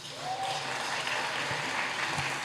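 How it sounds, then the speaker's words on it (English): An audience at a legal nonprofit's gala applauds, steady even clapping from a crowd that continues at moderate, somewhat distant volume throughout. "Everyone give a round of applause for Noreen."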